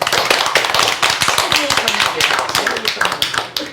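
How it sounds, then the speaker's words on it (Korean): Clapping from the audience at a Catholic discussion gathering, a few seconds of steady, fairly close rhythmic handclaps with voices talking underneath. "자 박수."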